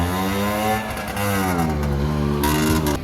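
A car drives along an English road on a sunny day, its engine humming steadily and close with slight rises and falls in pitch under road and wind noise.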